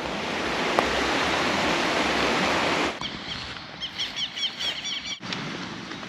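A river in Paraguay rushes steadily as a loud, close broadband wash for about three seconds, then drops back to a softer flow while a few birds chirp above it.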